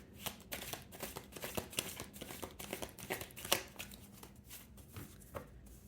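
Tarot cards are shuffled by hand in quick repeated riffles and slaps, a crisp papery flutter in uneven bursts, close and fairly quiet, with no speech.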